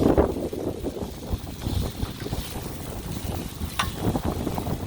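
Gusty outdoor wind buffets the microphone beside a Blackstone griddle set up for cooking beef stew, a steady low roar with a brief sharp clink near the end.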